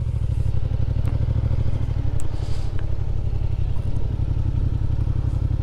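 A motorcycle engine runs steadily in second gear while riding a figure eight, a loud, continuous low throbbing idle-like drone with faint clatter and no talk.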